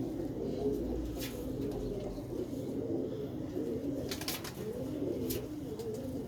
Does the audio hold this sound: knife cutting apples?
no